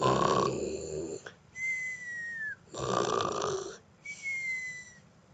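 A voice imitates loud snoring, with two long rasping inhales, each followed by a thin whistling exhale, in a slow repeating rhythm.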